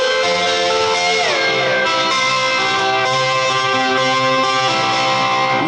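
Overdriven lap steel guitar glides smoothly down to a low C and holds it, a dense, sustained distorted tone ringing alone at steady, loud volume.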